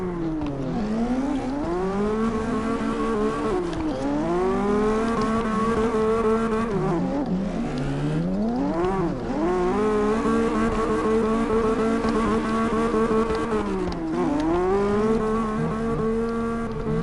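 A drifting car in CarX Drift Racing Online, its engine revving and wailing up and down as the car slides, with steady tire squeal under it, loud and continuous with no talk.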